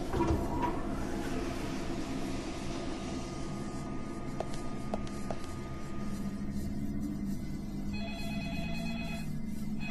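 Telephone ringing in the video game Deadly Premonition, a repeated electronic ring pattern heard over a steady game ambience, fairly close and clear, with no talking.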